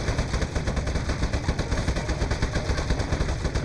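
A turret in the game Aperture Desk Job fires a rapid, steady stream of machine-gun-like shots, loud and close, continuing unbroken throughout.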